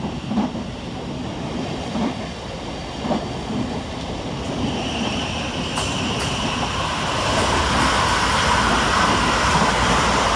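Govia Thameslink Class 700 electric multiple unit departs a railway station, a steady rising rumble with rail clatter and a growing whine as it pulls away, loud and close, with no speech.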